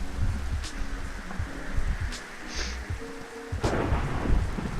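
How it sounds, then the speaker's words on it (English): Rain and rolling thunder in Minecraft, with steady rainfall throughout and a sharp thunder crack near the end, loud and close, with no voices. "It keeps raining."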